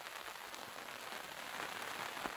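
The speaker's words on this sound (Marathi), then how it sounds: "आता पण थोडा लागतोय पाऊस." Light rain falls on farm fields in the Konkan region, a faint, even hiss of drops with no voices or other sounds over it.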